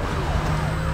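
Police car sirens wail in a car chase in the Need for Speed: Most Wanted video game, loud and continuous over a steady engine drone for a brief moment.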